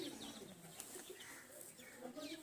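Racing pigeons kept in a cage give soft, low cooing, faint and steady with no talk.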